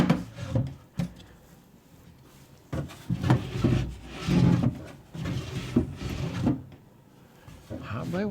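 A wooden dovetail drawer with a curved front slides in and out of its opening in a workshop, making repeated rubbing and scraping wood sounds and a few sharp knocks as it shuts, close by and fairly quiet.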